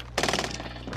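Rapid automatic gunfire in a video game, a loud close burst of shots firing in quick succession for about half a second, then trailing off.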